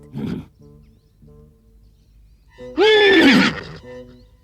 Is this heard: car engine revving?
no